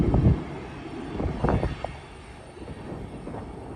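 A Union Pacific manifest freight train climbs Cajon Pass in high wind, its low engine rumble labouring at a distance, fairly faint and steady with slight swells.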